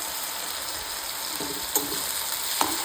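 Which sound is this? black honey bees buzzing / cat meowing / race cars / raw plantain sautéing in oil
raw plantain sautéing in oil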